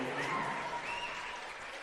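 Basketball crowd in a school gym, on their feet cheering and applauding late in a close game, a dense steady roar of clapping and shouting at a moderate distance throughout.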